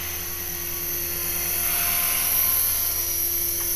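An HK-450 RC helicopter with a rebuilt rotor head flies nearby, giving a steady, loud, high-pitched whine and rotor buzz that holds constant for several seconds, with no voices.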